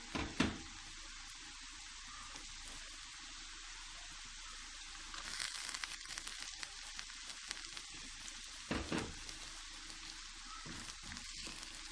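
Garlic and ginger fry with onions in a pan for a fish curry, making a steady close sizzle with a few brief knocks and stirring clatters along the way.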